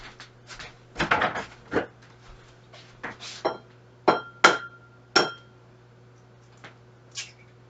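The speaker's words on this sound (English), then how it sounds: "I don't know how people crack eggs so well." Eggs are cracked one after another against a bowl rim while muffin batter is prepared in a home kitchen, a series of sharp close taps and clinks with short gaps and quieter handling noises between.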